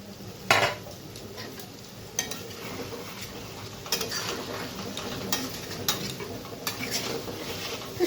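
A spatula stirs whole fish cooking in a pan, giving intermittent scraping clinks of utensil on metal over a soft background sizzle, close up and fairly quiet, with a few sharper knocks spaced irregularly.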